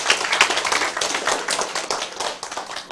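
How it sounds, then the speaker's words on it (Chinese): An audience at a Taiwanese law seminar lecture claps steadily, with dense, continuous handclaps close and fairly loud throughout and no talk. "拍手"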